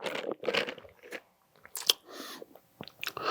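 Close, crisp crunches as a flame-broiled fast-food burger with tomato, pickles, mayo and cheese is bitten into, followed by quieter chewing and small mouth sounds between pauses.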